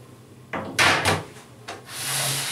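A series of scraping, rubbing and knocking sounds as a desktop computer case's hard side panel slides and is pulled free, ending in a brief hissy rustle.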